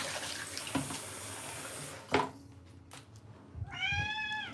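A tap runs into a sink while a pet cat waits nearby; the water hisses steadily with a couple of clunks, then flow stops and the cat lets out a clear, drawn-out meow.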